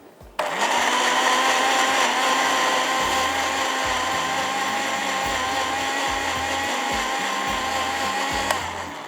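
A kitchen blender grinds tomatoes into a smooth paste for a tawa chicken tikka gravy, a loud, steady, close whirring that kicks in after a brief pause, runs almost nine seconds with slight pulsing in the motor, then cuts off.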